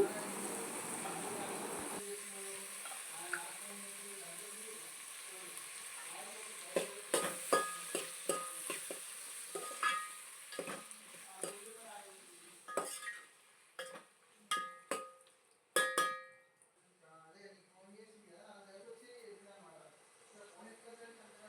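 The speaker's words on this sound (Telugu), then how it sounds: "ఆనియన్స్ పచ్చిమిర్చి మంచిగా ఫ్రై అయిన తర్వాత టమాటోస్ కూడా యాడ్ చేసుకోవాలి కొంచెం సాల్ట్ వేసుకొని మగ్గించేసుకోండి" Onions, green chillies and tomatoes sizzle softly in a pan for an egg biryani, broken by repeated scraping stirs and clinks of a spoon against metal, while a person talks over the cooking.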